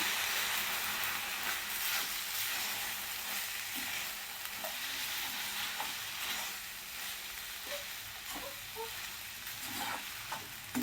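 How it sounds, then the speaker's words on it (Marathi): Poha seasoned with lemon juice and salt is stirred around a hot pan, a continuous gentle sizzle broken by occasional spatula scrapes and taps against the metal, with no speech. "मीठ घातल्यानंतर आपल्याला हे पोहे मिक्स करून घ्यायचे व्यवस्थित"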